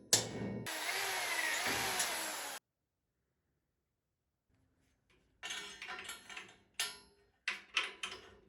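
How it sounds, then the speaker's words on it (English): A power drill bores a hole through a steel bolt to make a locking pin, giving a loud two-second whine, then a pause followed by several short clinks and taps of metal handling. "I will make a locking pin from a bolt and drill a hole in it so it can be secured."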